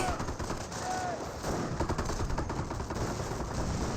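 Dense, continuous rifle and machine-gun fire in a Company of Heroes 1 battle between German Wehrmacht and US forces, a steady crackling barrage of overlapping shots with distant booms mixed in, no talk.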